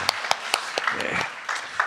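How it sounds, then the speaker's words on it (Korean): Scattered hand claps from a church congregation at a Korean-language Sunday communion service, sounding as separate sharp strikes at a fairly regular pace rather than a full ovation. "우리 찬양을 받으신 주님께 감사와 영광의 박수 올립니다"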